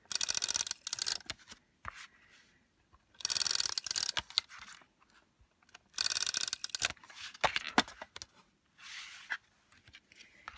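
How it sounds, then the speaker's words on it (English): Tape runner drawn around the four sides of a white paper piece for gold paper decor, giving repeated short scraping, tearing bursts in close, quiet bouts separated by pauses, with no talking. "I'm just going to take my white piece here and run some tape runner"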